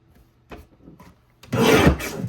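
Paper trimmer cutting card stock for a card kit: a few soft rasping slides, then one louder, longer scraping cut near the end, close by and without talk.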